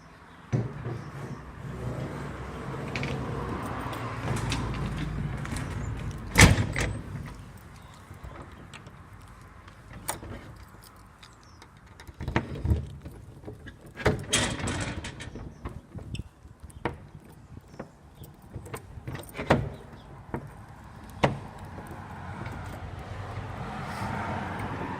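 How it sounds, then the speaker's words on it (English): Faint clicks, clunks and rattles from a temperamental lock on a residential garage door as it is worked and the door pulled open, with scattered sharp knocks over a quiet background. "A bit temperamental garage door lock, generally okay."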